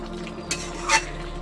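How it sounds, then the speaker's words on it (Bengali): Green onion being stirred into gandharaj chicken in a pan, with two brief scraping strokes over a steady low kitchen hum. "এবার একটু নাড়িয়ে একটু মিশিয়ে দিচ্ছি"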